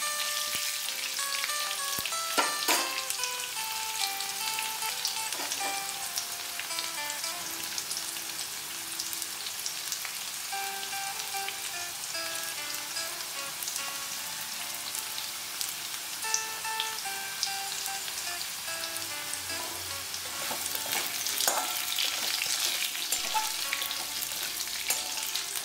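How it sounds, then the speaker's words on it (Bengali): Potato and pumpkin pieces fry in a pan, a continuous crackling sizzle with scattered sharp spatters and occasional spatula scrapes, growing busier near the end. "আলুটা ভালো করে ভেজে নিয়ে এর মধ্যে আমি কুমড়োগুলো দিয়ে আরেকবার ভেজে নেব।"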